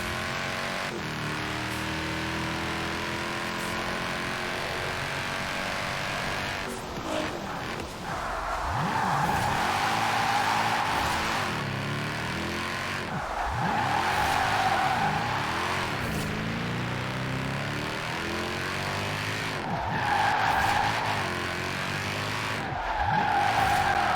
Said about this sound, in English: I feel like I'm doing quite well drifting in this vehicle.